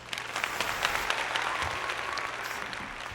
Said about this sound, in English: Round of applause for Matt, everybody.